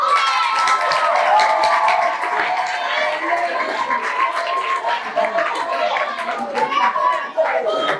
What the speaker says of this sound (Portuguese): Salva de palmas para o professor.